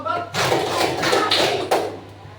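Schoolchildren in a classroom clap a rhythm as a group, a few sharp, loud bursts of many hands striking at once, separated by short gaps, with talking underneath.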